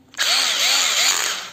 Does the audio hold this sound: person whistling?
no